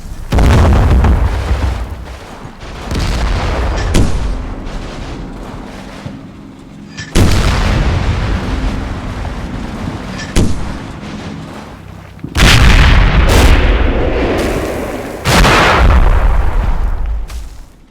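Repeated mortar shell impacts in the video game Combat Mission, heavy booming blasts landing in bursts with rumbling tails and short gaps between, loud and fairly close throughout, no voices.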